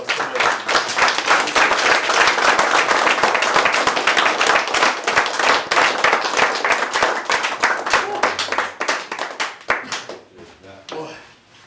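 A room of people clapping for a guest speaker, dense rapid applause that starts full and loud, thins into scattered claps and dies out toward the end, with a brief spoken word near the close.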